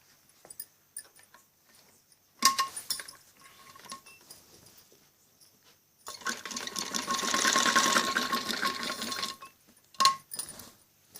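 A sewing machine stitches buckram onto a kameez back neck, with short bursts early on, then a longer steady run of rapid stitching, scattered with small clicks and handling sounds.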